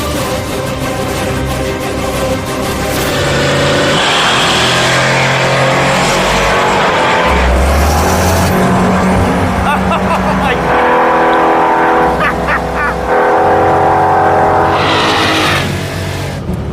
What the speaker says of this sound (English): It's the Rotsun versus the Impala, the turbo small block Ford versus the blown big block Chevy